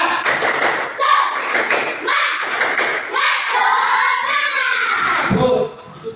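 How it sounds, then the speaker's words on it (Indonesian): An Indonesian school class does a rhythmic spirit clap, with children's voices chanting loudly over patterned claps and thumps of hands, then ending with a final shout and a few scattered claps. "Coba dulu tepuk semangat"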